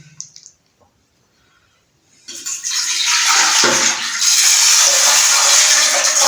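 After a quiet start with a faint clink, water gushes steadily into a metal pressure cooker holding lentils, a loud continuous pour that grows fuller toward the end.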